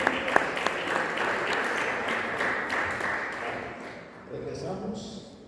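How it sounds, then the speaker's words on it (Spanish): A church congregation applauds for the Lord in a loud, roomy wash of clapping that slowly fades, with voices talking over it. "Denle palmas al Señor."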